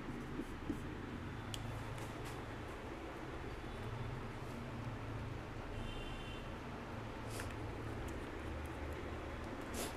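Pen scratches across paper while working through a trigonometry solution, faint continuous strokes under a low background hum.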